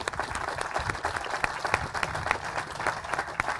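A crowd claps steadily, a dense patter of many hands applauding at an even level throughout, at a state trail ribbon-cutting ceremony.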